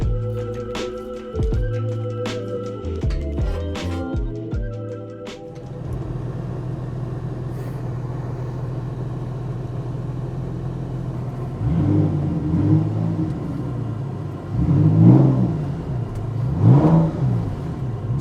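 A flood-salvaged Porsche engine idles steadily at first, then rumbles on through a test drive, swelling in several revving surges toward the end with no talking over it.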